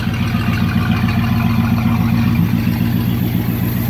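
A 1947 Ford wrecker truck engine idling through a custom exhaust stack, a loud, close, steady low rumble with an even pulsing beat.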